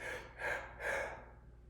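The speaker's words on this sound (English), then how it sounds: "a triple breath is sort of stacking breaths on top of one another to get as much air in as possible" Three quick, stacked deep inhales in a row, each a breathy rush of air drawn in close to the microphone, followed by a pause.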